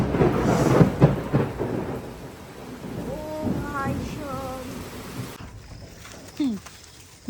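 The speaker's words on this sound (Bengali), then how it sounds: "শুরু হলো বৃষ্টি" Steady rain hisses over a yard with low rumbling thunder early on, while chirping animal calls rise and fall through the downpour; a voice speaks briefly amid the storm.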